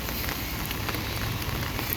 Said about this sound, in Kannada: ಮಳೆ ಇದೆ ಭಯಂಕರ ಮಳೆ ಇದೆ